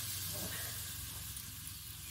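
Water poured into a hot karahi of curry with tomatoes, peas and potatoes hisses and sizzles steadily, a close, soft steam rush with no voices.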